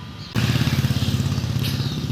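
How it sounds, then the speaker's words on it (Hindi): A Royal Enfield Bullet motorcycle fitted with a loud exhaust starts after a brief pause. It settles straight into a heavy, throbbing idle with a steady thumping pulse, close by and loud. "वो लगी बाइक और निकाल ली बाहर"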